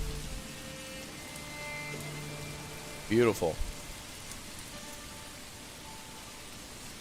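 Steady rain falling in the medieval city-building game Manor Lords, a soft continuous hiss running throughout, with someone briefly speaking over it.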